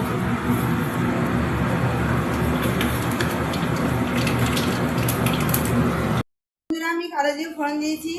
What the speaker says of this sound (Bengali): যখন তেলটা আমার গরম হয়ে গেছে তেলের মধ্যে আমি দিয়ে দেবো কালো জিরে ফোড়ন